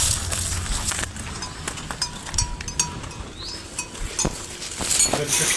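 A cow walks past on a rural path with its bell clinking in irregular, close metallic chinks, mixed with soft hoof steps and scattered knocks.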